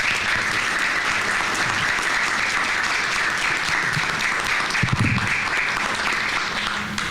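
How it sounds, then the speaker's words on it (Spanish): Sustained applause from an audience honoring two panelists at a cybersecurity and personal data protection discussion, a dense, steady clapping that fills the whole stretch without pause. "yo quisiera que le diéramos otro gran aplauso a nuestros dos ponentes"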